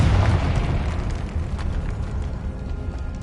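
A Confringo spell explodes in the video game Hogwarts Legacy, a loud, sustained rumbling blast with a dense low-end roar that fades slightly over a few seconds.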